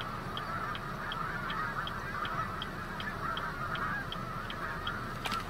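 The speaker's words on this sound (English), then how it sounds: "Oh no, that is a snow goose." Snow geese call in a steady series of short, evenly spaced honks over a constant roar of wind or traffic, heard from a middle distance in an open roadside setting.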